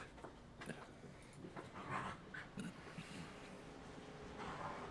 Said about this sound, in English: You 2 damn dogs chill the hell out.